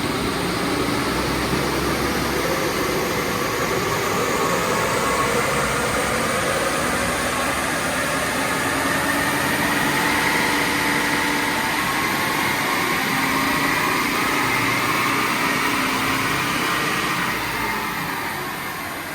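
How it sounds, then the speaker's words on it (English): A Toyota Prado engine runs steadily on a dyno in stock tune, a loud continuous drone with a slow rise and fall in pitch, no voices. "I'll run it up on the dyno stock so you can see what it looks like"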